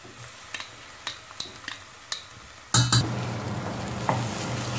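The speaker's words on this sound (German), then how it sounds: "Wenn Zwiebel und Knoblauch ein wenig glasig geworden ist, gehen wir nun über und schwitzen dazu über auch Tomatenmark anzuschwitzen." Garlic, onion and tomato paste sweat in a pan, first with several light scraping stirs, then a louder burst of sizzling and clattering as the pan is worked, settling into a soft steady frying hiss.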